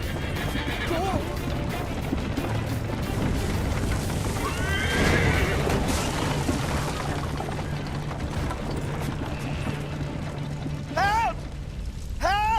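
In Assassin's Creed III Liberation, a horse whinnies loudly several times amid clattering hooves and crashing action, with voices shouting over the commotion.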